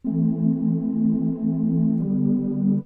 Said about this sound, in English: here we have 7 voices, and it's going to sound like this